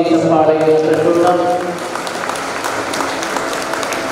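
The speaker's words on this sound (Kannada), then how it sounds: "2025ರ ಜೂಬಿಲಿ ವರ್ಷದ ನಾವೆಲ್ಲರೂ ಜೋರಾಗಿ ಚಪ್ಪಾಳೆಯನ್ನು ತಟ್ಟೋಣ" Cathedral congregation at a Jubilee 2025 celebration bursts into loud applause that swells for about a second and a half, then settles into lighter clapping, with a voice speaking over the opening.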